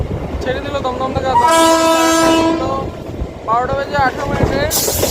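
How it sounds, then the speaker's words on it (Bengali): A 12-coach MEMU local train pulls out of Dum Dum station, its engine and wheels rumbling close by, with two loud horn blasts sounding above the running noise. "এখন আমাদের ট্রেন ছেড়ে দিল দমদম থেকে"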